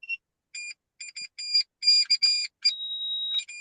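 A control wand in a studio gives off electronic beeps: quick bursts of chirping tones in uneven clusters, then one long steady tone, loud and clear against silence.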